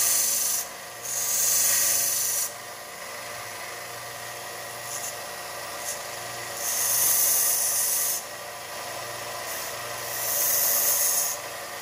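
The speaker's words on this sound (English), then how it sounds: "I use the sander just like I do a stone cutting machine" Electric sander from Harbor Freight grinding stone for an inlay, heard as three bursts of harsh rasping, hissing abrasion over a steady motor drone, each lasting a couple of seconds.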